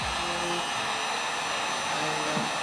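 A heat gun warming the screen adhesive on an iPhone 8 Plus during a screen replacement, blowing a steady, loud, close airy roar with a faint tonal whine and no letup.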